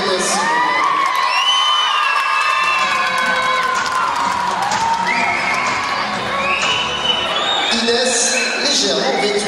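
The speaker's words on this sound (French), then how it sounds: "Merci d'applaudir Inès." Audience at a beauty pageant evening cheering, whooping and shouting over warbling music, a loud, busy crowd roar throughout with no clear single voice.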